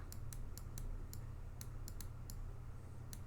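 Someone types on a computer keyboard: a quiet scatter of irregular, crisp key taps spaced unevenly over a low background hum, close by and alone.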